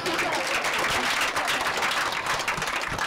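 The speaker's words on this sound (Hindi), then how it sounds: "आपके खुद के लिए तालियां बजा दो" An audience at a closing session claps continuously, a full, even burst of applause from a crowd with no voices standing out.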